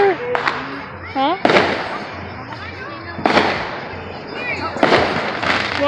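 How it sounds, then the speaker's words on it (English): Fireworks burst in several loud, sharp cracks around a park, coming in separate bangs with crackling tails between them, with people talking faintly in the background. "holy crap, now we got fireworks everywhere."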